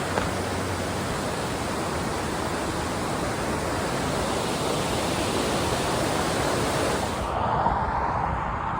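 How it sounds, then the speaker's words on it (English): Water pours steadily over a small dam along a conservation-area trail, a loud, broad, unbroken rush heard up close that thins and softens near the end. "How beautiful is this water feature? It's some kind of dam"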